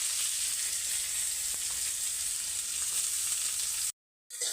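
Chopped onions frying in oil in a wok (kadai) on a homemade stove, a steady bright sizzle that holds unbroken and close before cutting off abruptly near the end, with no talking.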